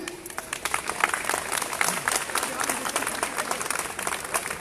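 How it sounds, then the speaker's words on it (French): Steady applause from a crowd at an outdoor street demonstration in Reims, dense clapping that carries on throughout at a moderate distance. "je donne le micro à notre camarade Michel sur vos applaudissements."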